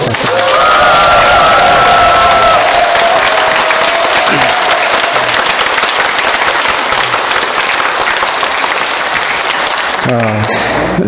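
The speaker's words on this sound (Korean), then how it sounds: "다시 한번 박수" A church congregation at a Catholic Sunday Mass in Incheon applauds the choir: loud, dense clapping that holds steadily for about ten seconds before fading as a voice starts up.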